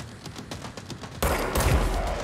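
Rapid automatic gunfire in Control crackles as a quick series of sharp shots, building into a denser, louder burst in the second half, close and prominent with no talking.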